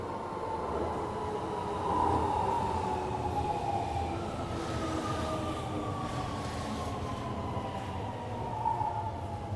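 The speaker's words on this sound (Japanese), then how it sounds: "1番線に谷上行き電車が参ります。" A Kobe Municipal Subway Seishin-Yamate Line train rumbles into Itayado Station, wheels squealing faintly over a steady low roar as it slows.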